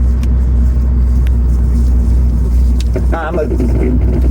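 A loud Honda Civic EP3 engine drones steadily with a low, constant rumble inside the creaky cabin, and a brief voice cuts in near the end.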